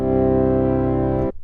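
Korg Prologue 8 synth pad set with a slow attack, a single sustained harmonic-rich chord that swells in and holds steadily for over a second before cutting off abruptly when the key is released.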